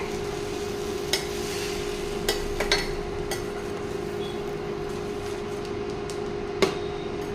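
Soaked sago is stirred into upma in a pan over steady low sizzling, with a spoon scraping and clicking against the metal now and then.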